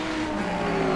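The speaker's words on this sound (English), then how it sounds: "Omar Aziz in the Audi R8 LM GT3 car" Audi R8 LM GT3 race car in a racing video game at Spa, its engine holding a steady loud drone with a strong tonal whine throughout the short burst, no voices.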